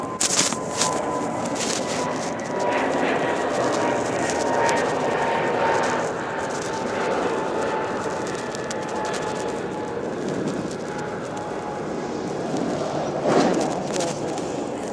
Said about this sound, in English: you're listening to the planes taking off right here at 1630 and 1486.